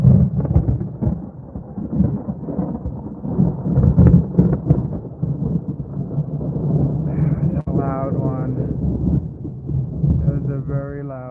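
A monsoon thunderstorm rolls through with low, rumbling thunder over steady rain, loud and continuous. Toward the end people talk over it.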